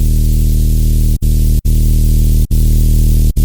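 A loud, buzzy distorted sine wave synth bass in Ableton, pushed almost to a square wave, drones steadily, harmonically rich, broken by a few brief gaps.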